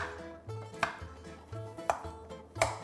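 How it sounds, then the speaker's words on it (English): Boiled, peeled potatoes being mashed with a spatula, giving three soft, evenly spaced thuds against the bowl over a low background hum, fairly quiet with no talking. "We mash potatoes, first with a spatula"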